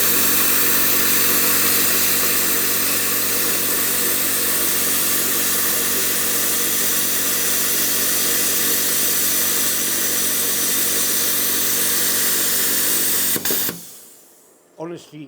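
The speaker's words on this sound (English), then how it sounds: "I don't think it's the right machine to cut 10mm plate with, but it will do it." An Xtreme Plasma Cut 40 plasma cutter slices through 10mm steel plate with a loud, continuous hissing roar that holds steady for about thirteen seconds, then cuts off abruptly, leaving faint clatter and a quiet voice.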